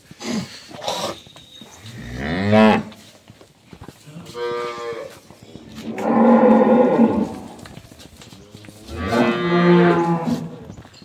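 Dairy cows on a Bangladeshi farm moo repeatedly, with several long, loud calls spaced a few seconds apart and close by, and no talk over them.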